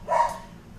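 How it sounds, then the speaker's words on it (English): A single burst of dog barking, a short loud bark near the start that fades quickly against a quiet indoor background. "Sorry for the dogs."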